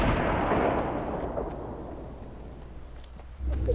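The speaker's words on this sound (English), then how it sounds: "they're using their guided missile." A guided missile in the Fortnite video game lands with a deep, rumbling boom that starts loud and slowly fades into a low roar, with a second thud near the end.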